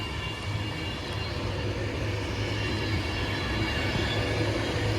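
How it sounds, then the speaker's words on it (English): A Manchester Pendolino train rumbles past as a steady, fairly faint rolling roar, with no voices over it. "City of Preston was that Manchester Pendolino."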